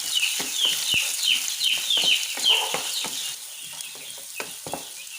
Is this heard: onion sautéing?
yes